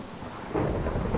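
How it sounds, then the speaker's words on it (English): A Minecraft thunderstorm rumbles with dense, low, rolling thunder that swells midway, with a wash of rain filling the background. "The storm is continuing."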